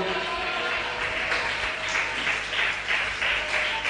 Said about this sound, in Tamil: ஒரு கைத்தட்டு கர்த்தரை கொடுங்க பார்க்கலாம்.